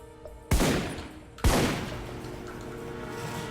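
Two heavy assault rifle shots ring out in the shooter game Alpha Protocol about a second apart, each a loud, sharp crack followed by a long echoing decay into low ambient noise.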